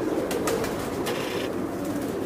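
Kasuri breed pigeons coo softly in a loft, faint low cooing under steady background noise, with a few brief sharper sounds.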